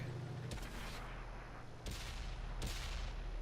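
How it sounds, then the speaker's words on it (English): In the World of Tanks video game, a tier 8 Indian Panzer medium tank fires its cannon, making three sharp, booming shots spaced about a second apart, each with a short rumbling decay under steady battle ambience. "Alright, he's just fired."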